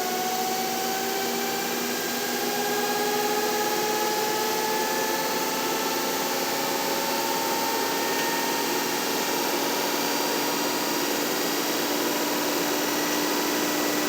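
An electric motor from a 1939 Dodge electric truck, powered by a substantial battery charger, spins up toward about 1,200 to 1,300 RPM, giving a steady, loud whine with rising tones and a constant hiss.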